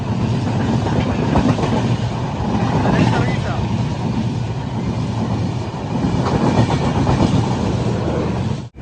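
Porbandar–Thiruvananthapuram North Express rolling past close by on the Konkan Railway in monsoon weather, steady loud rumble with rhythmic wheel clatter throughout, and a person speaking over the noise.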